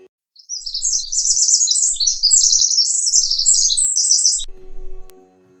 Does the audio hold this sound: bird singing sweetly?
yes